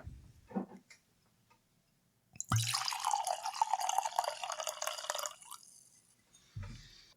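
Junmai sake poured into a glass, a steady liquid trickle and splash lasting about three seconds, close and fairly loud, between brief moments of quiet handling.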